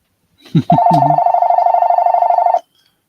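A telephone rings indoors with one steady electronic tone that holds for about two seconds, loud and close, after a few brief knocks and bumps at the start.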